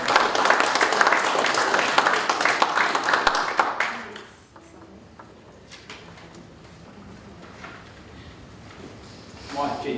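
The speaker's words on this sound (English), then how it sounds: "everybody can give Joe a round of applause." An audience at a real estate seminar applauds loudly for about four seconds, then the clapping dies away into quiet room noise with a few scattered claps and small movements, and a brief burst returns at the end.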